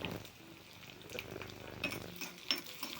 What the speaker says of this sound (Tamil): கொஞ்சமாக தேங்காய் ஊற்றி கடுகு, கருவேப்பிலை, சின்ன வெங்காயம்